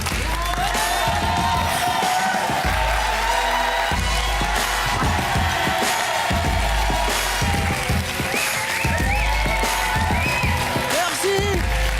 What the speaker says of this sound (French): On applaudit encore très fort les invités.